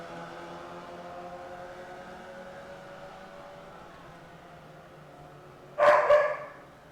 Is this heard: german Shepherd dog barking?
yes